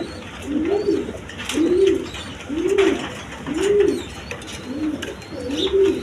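A male and female pair of pigeons cooing close by, about six rhythmic, soft, rolling coos repeating roughly once a second over steady background noise.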